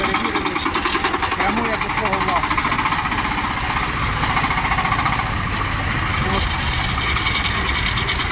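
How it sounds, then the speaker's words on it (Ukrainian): A Shifeng SF 354 single-cylinder tractor engine idles with a steady, loud, rapid chugging pulse that stays constant throughout, with talk over it. "Одноциліндровий рівний тракторець."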